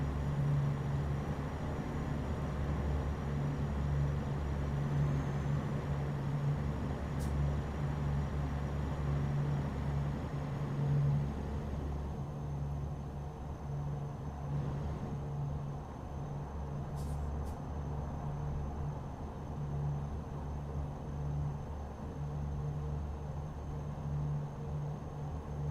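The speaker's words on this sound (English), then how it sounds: "My truck sounds like it's crying for help right now" A heavy truck engine drones steadily while driving toward Mexico in American Truck Simulator with realism mods, a loud low rumble holding throughout with a faint high whine above.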